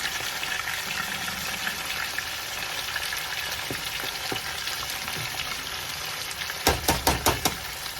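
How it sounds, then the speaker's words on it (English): Sliced onions hit fish frying in a pot, giving a constant crackling sizzle that swells into a short run of louder bubbling spits near the end. "So the next thing we are adding to this fish right away is going to be the onions,"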